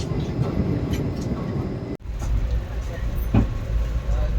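The Sri Jagannath Express rolls along, a continuous low rumble and rattle from inside the coach with a brief dropout and an occasional clack.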